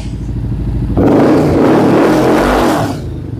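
A 750 cc twin-engine superbike revs up in one loud, close burst of about two seconds, then settles back to idle, with no talk over it.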